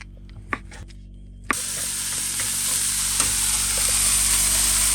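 Bacon bursts into a loud, steady, hissing sizzle in a pan after a quiet start with a few faint clicks, then keeps frying evenly with no talking.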